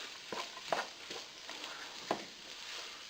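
Onions and celery are stirred in a pot, with soft scraping and a few sharper clinks of the utensil at an irregular pace over a faint frying hiss, quiet and close.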